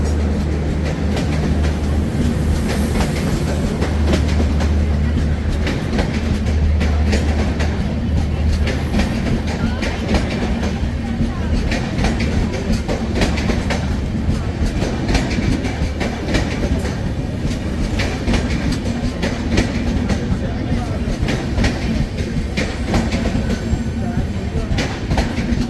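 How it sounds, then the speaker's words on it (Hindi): The 12015 Ajmer Shatabdi Express, hauled by an electric locomotive, rolls in with a loud, steady rumble and clickety-clack of wheels over rails, with faint voices in the background. "इलेक्ट्रिक लोकोमोटिव के साथ में हमारी शताब्दी आ चुकी है।"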